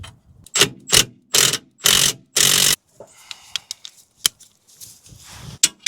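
Impact gun on a VW Passat CC rear suspension arm bolt fires five loud, close rattling bursts in quick succession, followed by scattered clicks and light metallic clatter of tools in a workshop.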